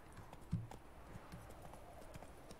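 Horse hooves clip-clop in a steady trotting rhythm in The Witcher video game, fairly faint and close, with one sharper hoof strike early on and a low background bed beneath.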